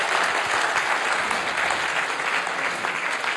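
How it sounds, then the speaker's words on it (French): Sustained applause from an audience at a Paris 2024 Olympic and Paralympic presentation, a dense steady wash of many hands clapping at even loudness throughout with no voices over it. "Vous pouvez l'applaudir, bien évidemment."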